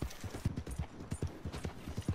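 A horse in the western video game Red Dead Redemption 2 trots with a quick, regular clip-clop of hooves, fairly close and steady, with no talking.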